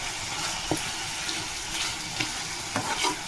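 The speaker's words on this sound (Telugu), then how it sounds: "ఈ ఉల్లిపాయలతో ఈ చికెన్ అన్నది ఉడకాలన్నమాట" Chicken cooking with onions and ginger-garlic paste in a pan, a steady low sizzle with a few soft stirring clinks, close and continuous with no talking.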